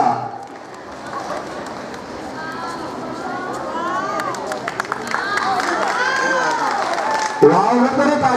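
A school audience at a girls' senior secondary school prize ceremony in Chamba builds into sustained clapping and cheering, with children's voices mixed into the crowd noise, loud and close.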